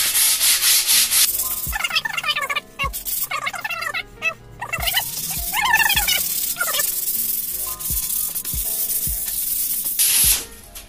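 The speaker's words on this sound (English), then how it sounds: "now we're going to take a bit of sandpaper to them, just give them a little rub up." Sandpaper rubs briskly over aluminium box section bricklaying profiles, a close, loud series of scratchy back-and-forth strokes with short pauses between passes.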